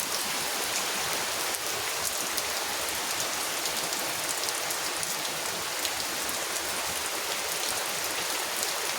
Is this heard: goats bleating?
no